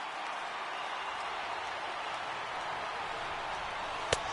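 A stadium crowd of over 36,000 rises and cheers in MLB The Show 18, a broad steady roar held at an even level throughout, with one brief sharp click near the end.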